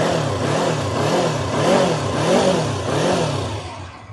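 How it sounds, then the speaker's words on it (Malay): A standard-exhaust 2017 Yamaha R25 V1 Black Edition motorcycle engine revs repeatedly, rising and falling in rhythmic blips close by, then settling lower toward the end. "kita dengar bunyi motor ni."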